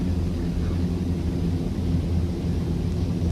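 A Fokker 50 turboprop rolls down the runway for takeoff in a flight simulator game, giving a steady, loud broadband engine roar with deep low rumble that holds constant throughout.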